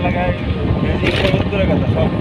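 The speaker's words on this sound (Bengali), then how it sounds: "এই অঞ্চলে যে দেখো একটা ট্রলার আইতেছে, দেখছ?" A trawler boat's engine drones steadily on a wide river, a continuous low rumble with wind noise, heard close throughout under people talking.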